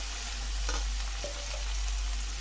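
Ingredients stirred and mixed in a hot frying pan, a continuous sizzle with a couple of brief scraping strokes, no voices.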